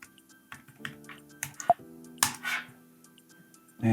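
Keys on a MacBook Pro keyboard tap out a password in a short, irregular run of close, crisp clicks with small pauses between them.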